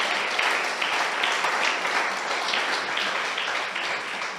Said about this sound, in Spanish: Y el pueblo de Dios lo sella con un poderoso aplauso al Señor.